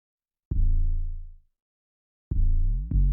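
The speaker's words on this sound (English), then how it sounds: "I added a bass, a very simple bass pattern, which sounds like this" A simple synth bass pattern from an Afroswing beat: a few deep, booming notes with pitch bends, each swelling and fading, separated by silence, loud and isolated.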